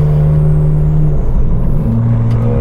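McLaren Grand Tourer supercar with a 707 hp engine accelerating on a back road, a loud, close engine drone that shifts pitch midway as it pulls through the gears, with no talking.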